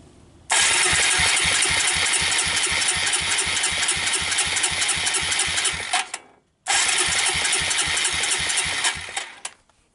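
A Suzuki Quadrunner LT160 ATV engine cranks with oil added to the cylinder, a rapid rhythmic loud chugging turnover for several seconds, a brief pause, then another long cranking burst.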